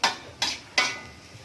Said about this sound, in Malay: gaul-gaul kita punya mie tadi.